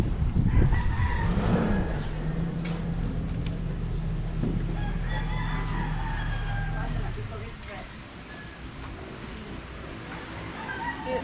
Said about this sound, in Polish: Ale koguty pieją tutaj ostro.